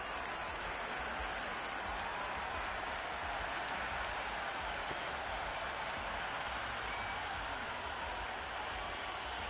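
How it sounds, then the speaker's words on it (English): Crowd at a T20 cricket match between India and South Africa roaring and applauding continuously, a dense, distant wash of cheering and clapping that never lets up. "the crowd have joined the party. It's pretty noisy at the ground."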